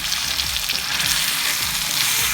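Minced meat sizzles steadily in a pan with garlic during a light sauté, a loud continuous frying hiss with faint stirring and no talking.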